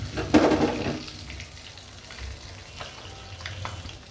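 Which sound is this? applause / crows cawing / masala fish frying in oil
masala fish frying in oil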